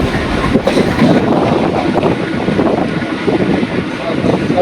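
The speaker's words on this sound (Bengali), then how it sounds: "এই মুহূর্তে ট্রেন আমার শোভাবাজারে ঢুকছে" Kolkata Chakra Rail train pulling into Shobhabazar station, a steady loud rumble of wheels with rattling carriage noise throughout, close and continuous.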